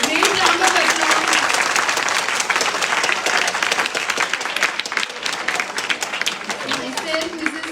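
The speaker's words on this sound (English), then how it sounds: "Great round of applause." A large audience at a school science-experiments lecture breaks into dense, sustained applause, a continuous roar of many hands that holds steady and tapers slightly toward the end.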